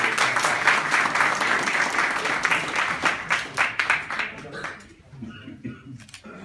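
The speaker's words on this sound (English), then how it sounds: "Well, a round of applause because he really did it justice." Audience at a poem recitation competition breaks into a round of clapping that holds steady for several seconds, then tapers off into scattered claps and quiet.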